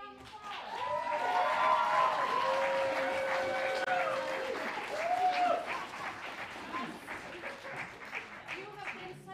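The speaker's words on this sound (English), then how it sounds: "Let's give your teams a round of applause." Theatresports audience applauding the teams, a swell of clapping with cheers and whoops that builds and then fades, with voices shouting over it.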